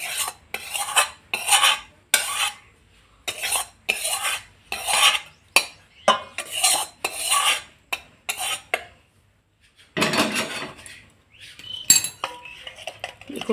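Batter of ghee-fried gram flour is stirred into tandoori chicken in a metal bowl, a spoon clinking and scraping in steady repeated strokes, close and loud, with a brief pause before the rhythm resumes.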